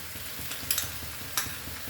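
Prawns in butter and garlic sizzle softly in a pan as a slurry goes in and gets mixed, a low crackle with a couple of brief utensil clinks.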